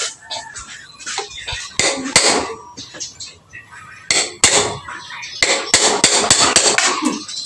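A motorcycle chain pin is knocked out with a wrench used as a hammer: a dozen or so sharp, close metallic blows in irregular bursts, with someone talking between the strikes.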